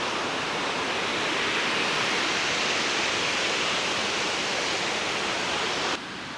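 A waterfall at Serra da Garganta roars steadily with a dense, close rush of falling water that stays constant throughout.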